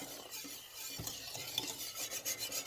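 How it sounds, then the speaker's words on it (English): A spoon scrapes and rubs through a pot of oats in slow, soft strokes, close by and fairly quiet, with a faint hiss behind it. "Now we're going to give it a stir."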